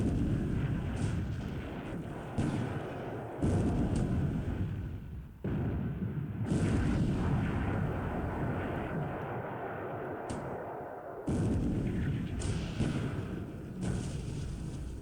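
Naval gunfire aimed at a destroyer rumbles through the video game Pacific: AE, heavy booming blasts and roaring bursts that start and cut off abruptly, loud and dense across the whole stretch.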